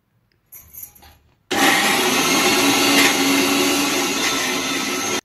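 Kitchen mixer grinder whirs loudly and steadily, grinding roasted peanuts and coriander leaves into a fine paste, after a brief clatter of the jar being set in place; no talking.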